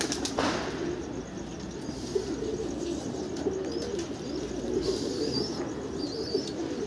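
Racing pigeons coo softly and repeatedly at a loft, with a few brief flutters of wings. Faint chirps are mixed in over a steady low background, and nobody speaks.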